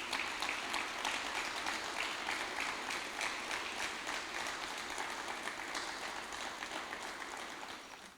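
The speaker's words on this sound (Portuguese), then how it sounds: "Uma salva de palmas para Jesus." Sustained applause from a church congregation during an evening worship service, dense clapping filling the space steadily and slowly tapering off toward the end, with no voices over it.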